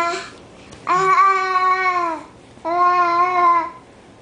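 Infant babbling in two sustained vocal bursts with a short pause between, close and clear, no adult talk over it.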